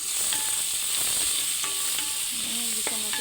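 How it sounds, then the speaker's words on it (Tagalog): Onions being sautéed in a pan for callos, a steady close sizzle and hiss of frying with occasional stirring scrapes and small pops, no talking. "igisa natin yung ating sibuyas."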